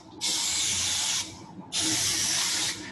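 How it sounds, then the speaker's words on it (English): A spray paint can sprays teal paint onto a poster in two close bursts, each a steady, loud hiss lasting about a second with a short pause between. "New cans sometimes require a little spray."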